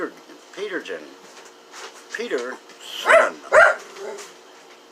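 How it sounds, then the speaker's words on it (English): A pet dog barks and whimpers in short bursts, with two louder barks near the end, while someone talks over it. "that was my dog"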